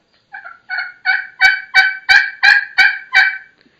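Eight sharp turkey clucks struck on a slate pot call ring out in a steady, even rhythm, close and loud, building slightly in strength, with no talking.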